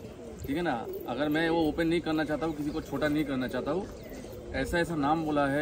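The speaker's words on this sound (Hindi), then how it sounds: "कबूतर गाछ में पेड़ में बैठ रहा है" Pigeons coo in a pigeon loft, soft and repeated, beneath someone talking almost continuously.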